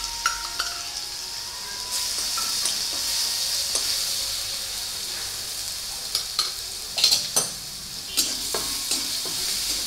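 Green chili and garlic paste fries in hot oil for a vegetable dish, a steady hiss and sizzle with occasional scrapes and clinks of a spoon against the pan, close and without talking.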